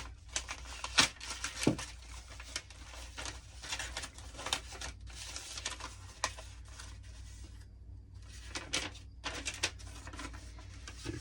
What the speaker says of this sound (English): Love that blue masking tape, don't you?